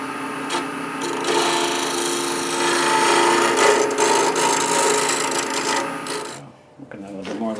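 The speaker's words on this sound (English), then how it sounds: "So I'm just going to do a little scraping cut" A steel scraper takes a light scraping cut along a wooden edge in a woodworking shop, a steady close rasping drag lasting several seconds before stopping, with a few short scrapes after.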